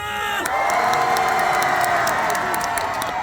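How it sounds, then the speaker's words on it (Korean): A concert crowd at a daily outdoor show at the Boseong tea expo applauds and cheers loudly, a dense, steady roar of clapping and shouting with whoops throughout, close and sustained. "박수와 함성!"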